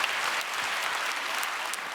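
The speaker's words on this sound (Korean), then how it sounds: "품위 있는 박수를 받으니까 기분이 좋네요" A church congregation claps during a Korean sermon, steady dense applause filling the room for two seconds, alone without talk.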